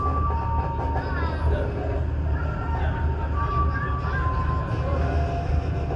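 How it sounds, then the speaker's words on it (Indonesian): Probowangi economy-class train pulling away from Kalibaru station in East Java, a steady low rumble with rail squeal tones drifting across it, continuous throughout under faint background voices. "Kereta api Purbawangi baru saja diberangkatkan dari stasiun Kalibaru"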